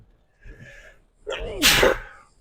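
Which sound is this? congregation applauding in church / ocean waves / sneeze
sneeze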